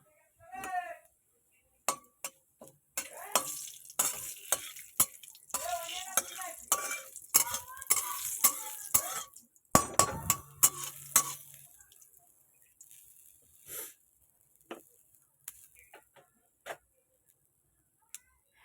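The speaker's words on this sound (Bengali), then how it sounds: "এই যে জিরে দিয়ে দিলাম, তেজপাতাও দিয়ে দিলাম।" Cumin seeds and bay leaves dropped into hot oil in a home kitchen pan, giving bursts of spitting sizzle among sharp clinks of utensils against the pot, close by, with someone talking over parts of it.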